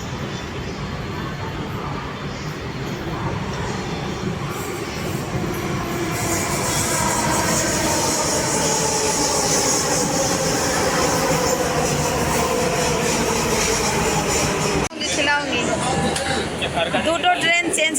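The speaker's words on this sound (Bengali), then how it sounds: "এই যে আমাদের ট্রেন চলে এসেছে এবার।" A passenger train pulls into a station, its rumble and clatter building steadily, with high metallic wheel squeals rising midway. Voices talk nearby throughout, and the sound shifts abruptly near the end.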